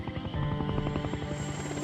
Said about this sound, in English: Coast Guard helicopters are sent out in search of the crash site.